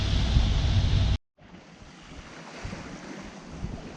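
Wind and surf aboard a Hallberg-Rassy 54 sailing yacht at sea in 14 to 17 knots of wind: a loud gusting rush that cuts out briefly, then returns as softer washing of waves and breeze.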